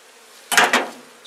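A short, close burst of honey bees buzzing at an open-air hive in December, two quick swells of droning wings against a quiet background.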